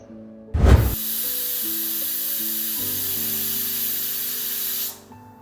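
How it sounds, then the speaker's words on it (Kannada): A pressure cooker holding little-millet biryani releases steam in a loud, sharp hiss that starts abruptly after a brief bump, runs steadily for about four seconds and then stops. "ಕುಕ್ಕರ್ ಲಿಡ್ನ ಕ್ಲೋಸ್ ಮಾಡಿ ಒಂದು ಫೋರ್ ವಿಜಲ್ಸ್ ಬರೋವರೆಗೂ ಪ್ರೆಷರ್ ಕುಕ್ ಮಾಡೋಣ"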